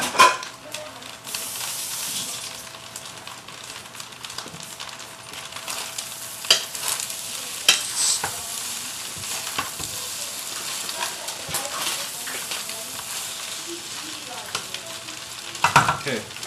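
Egg and rice fry in a pan for fried rice, giving a loud, steady sizzle broken by scattered scrapes and clicks from stirring, with no voices.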